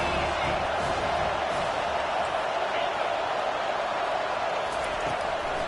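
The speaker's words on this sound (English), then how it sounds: "This crowd rising up, sensing that its defense needs some help." A football stadium crowd at an Auburn–UNC game roars steadily, a broad continuous wash of cheering voices that stays loud without clear peaks.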